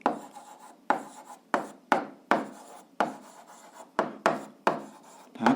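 Chalk or pen strokes during an eighth-grade algebra lesson: a series of about ten sharp scratching taps, each starting with a crisp attack and trailing off, in an irregular rhythm, close and clear with no talk.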